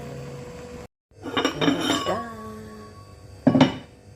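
A metal lid is set onto a cooking pot of native chicken essence, giving two bright clanking clinks separated by a pause of more than a second, close and clear over quiet kitchen background.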